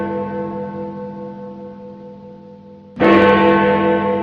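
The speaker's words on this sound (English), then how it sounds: "That's the unmistakable chime of the tower clock at the Ghana Post Office in the heart of the Central Business District of Accra" The tower clock at the Ghana Post Office in Accra's Central Business District rings one chime that slowly fades with a long ringing tail, then a second loud strike, resonant and close, with no talking.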